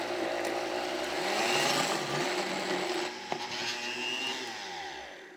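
A Vitamix blender churns frozen bananas into two-ingredient vegan ice cream in a home kitchen. Its loud motor whirs steadily with shifting pitch as the thick mixture catches, and no one speaks.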